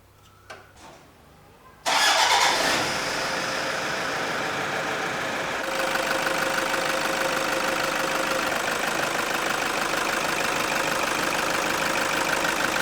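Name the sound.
Toyota Fortuner engine starting and idling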